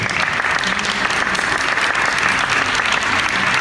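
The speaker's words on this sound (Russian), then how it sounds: "Prego, сеньор Антонелли, и ваши аплодисменты." Audience applause after a lecture on art, dense and even throughout, with no voices over it.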